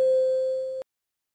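Short synthetic plug sample from Ty's Por Vida multi-kit: a single clean steady tone with faint overtones, fading slightly and stopping sharply after under a second, followed by silence.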